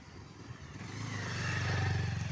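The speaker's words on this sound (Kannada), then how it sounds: "ಬೈಕ್ಗಳೆಲ್ಲ ಓಡಾಡ್ತವೆ." Motorcycles ride across a long bridge in the evening, one engine buzzing closer and growing steadily louder over a couple of seconds against a low rumble of traffic.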